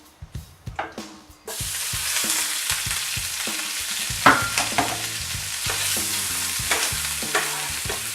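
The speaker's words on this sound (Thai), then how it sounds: "อันนี้กเบาไฟไว้ก่อนนะ เราจะให้เบคอนมันคายน้ำมันออกมาครับ" Bacon frying in a pan over low heat, rendering its fat, with a steady close sizzle and repeated sharp stirring and scraping clatters throughout.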